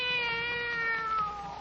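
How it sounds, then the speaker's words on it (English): A single drawn-out cat meow, close and clear, sliding gently downward in pitch over about a second and a half. "Oh, there's a cat now."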